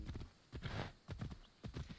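A horse gallops in a video game, its hooves landing in quick rhythmic clip-clop bursts separated by short gaps, fairly soft and with no talking.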